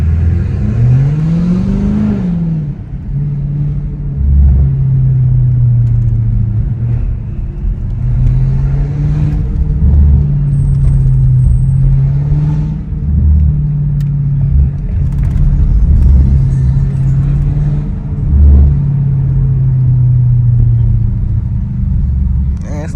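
A straight-piped Audi S7 exhaust drones loudly and steadily while driving through downtown Toronto, with a deep rumble that swells in repeated bursts of throttle over a low, continuous engine tone.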